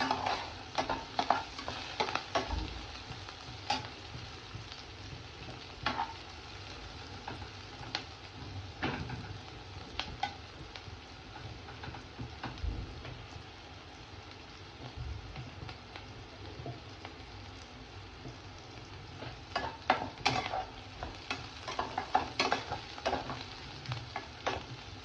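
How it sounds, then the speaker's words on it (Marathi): Sliced onion and green chili, salted, fry in a pan while being stirred, a steady crackling sizzle broken by repeated scraping strokes of the spoon, close and continuous. "मिरची आणि कांद्याला वेळच लागतो भाजायला"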